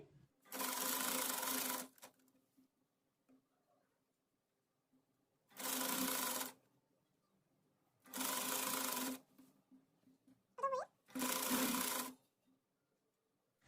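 A sewing machine stitches sleeves onto an umbrella frock, running in four separate bursts of steady, close motor whir with quiet pauses between them and no voices.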